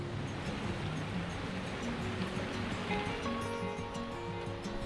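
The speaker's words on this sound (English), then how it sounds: "the River Brittle falls over the mountain in a series of waterfalls" The River Brittle tumbles down a series of waterfalls into the Fairy Pools on the Isle of Skye, beneath the Cuillin Mountains, producing a steady, dense rushing roar of water at an even level throughout, with faint pitched tones underneath.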